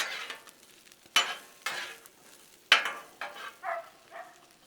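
Peppers and onions fry on a Blackstone griddle for cheesesteak smashburgers, with soft sizzling broken by several sharp bursts of louder hiss and scraping as the vegetables are stirred and tossed, close by with no talk.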